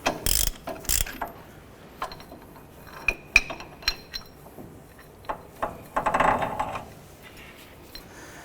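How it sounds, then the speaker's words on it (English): Ball joint press clamp being loosened on a 2007-17 Jeep Wrangler front suspension, close ratcheting clicks in irregular bursts with metallic clinks and rattles of the tool. "now we're going to go ahead and loosen the clamp"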